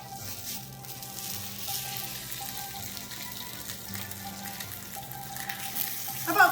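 Polenta slices laid on a hot griddle coated with olive oil give a steady, soft sizzle that hisses evenly throughout, fairly quiet and with no talking.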